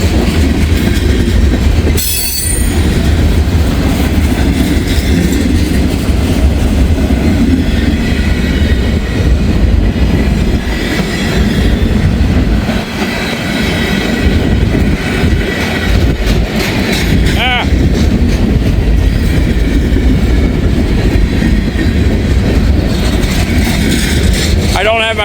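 CSX freight train rolling past in steady rain, a loud continuous rumble with clattering wheels and occasional squeals, close by and sustained throughout, with a voice talking at times.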